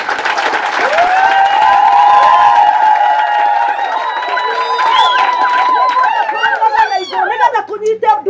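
A church congregation breaks into loud applause and cheering, many voices rising together in a sustained roar with clapping running throughout.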